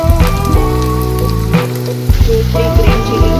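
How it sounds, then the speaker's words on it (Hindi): Onion and ginger fry in a pan for dhaba-style paneer, giving a loud, steady close sizzle that crackles continuously, with musical tones running beneath it. "जब अनियन आपके हाफ फ्राई हो जाए तब इसमें जिंजर ऐड करेंगे"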